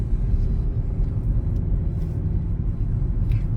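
Engine of a manual-transmission car hums and pulls with a steady low rumble as it is given gas during driving-practice lessons on a route with speed bumps and downhill stretches, close and continuous, with no one speaking.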